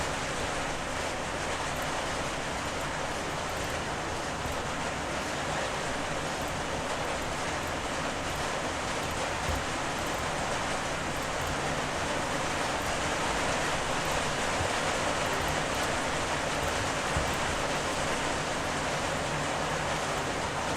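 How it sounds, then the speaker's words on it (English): Heavy rain pours in an Unreal Engine 5 sci-fi horror survival video game, a dense, steady hiss of downpour filling the whole stretch at moderate level with no talking. "the rain is going super hard."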